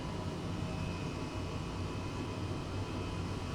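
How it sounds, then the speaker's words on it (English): An Airbus H135 helicopter idles in Microsoft Flight Simulator 2020, a steady, dense engine and rotor drone with a constant whine, unchanging throughout. "I think typically you'd let a helicopter idle for a while."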